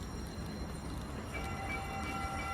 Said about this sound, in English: here's a train coming by